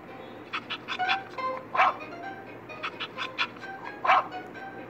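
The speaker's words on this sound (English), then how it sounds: "So he started barking at his own reflection." A dog in a children's story about a greedy dog with a bone, barking at its own reflection in water, gives a run of short yaps and whimpering barks in two clusters, moderately close and fairly clear.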